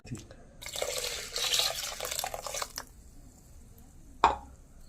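Water poured into a pot while making kashaya, a herbal decoction, a steady splashing stream lasting about two seconds, followed by a single sharp clink of a vessel.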